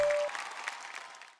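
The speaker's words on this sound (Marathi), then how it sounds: "एकदा जोरदार टाळ्या." A studio audience at a Marathi game show gives a short burst of clapping, fairly quiet and close, which fades out within about a second and a half.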